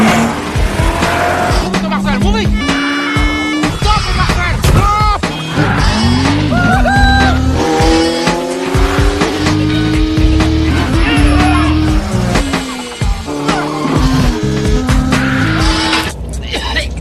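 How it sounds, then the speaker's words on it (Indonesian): A police car chase from the film The Transporter. Engines roar and tires squeal loudly, with dramatic music and voices layered over the revving and skidding throughout. "Terjadilah kejar-kejaran antara Frank dan polisi di jalan"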